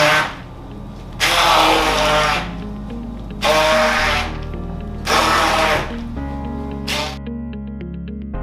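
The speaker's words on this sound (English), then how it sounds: "Now, blender stick, fabulous tool." Stick blender whirring through cauliflower mash in repeated bursts of about a second each, loud and close, with quieter mechanical pauses between and a shorter final burst.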